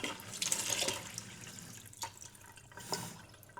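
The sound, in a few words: tap running cold water to cool milk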